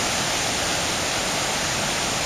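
Englishman River rushing by the Upper Bridge on Vancouver Island, British Columbia, as it rises, a loud, dense, continuous roar of flowing water with no other sounds.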